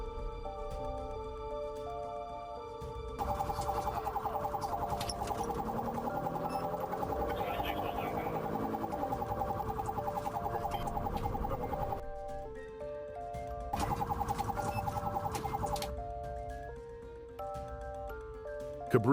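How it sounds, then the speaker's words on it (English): A police car's wailing siren rises and falls continuously over music, cutting out briefly partway through and returning before fading. "The officer lit up his sirens, and the chase was on."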